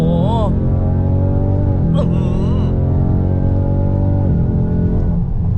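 A 2019 Ford Mustang fitted with a Euro Arts valved exhaust rumbles loudly and close in a deep, steady roar, rising and falling through revs with a sharp surge near the middle.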